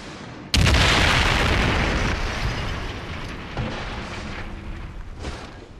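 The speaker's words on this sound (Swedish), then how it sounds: "Det enda som kan hejda dem är den tyska 88 mm kanonen." A German 88 mm cannon fires one heavy, booming shot close by, followed by a long rumbling roar of battle noise that slowly fades, with a few fainter thuds near the end and no voices.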